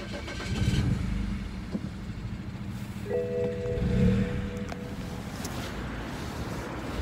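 The engine of a Porsche runs rough after breaking down on a country road, an uneven low idle that swells and sags, with faint surrounding noise and a distant tonal hum in the middle.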